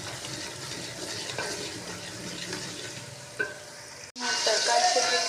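Salt, turmeric powder and chili are stirred into a hot, sizzling tadka for an aloo matar gajar curry. Steady frying hiss runs throughout, with scraping stirs, a brief break, then a louder burst of sizzling. No talking.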